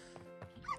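A dog in the farming game My Time at Portia gives a few short, soft yips and whimpering barks, quiet and close, with no voices alongside.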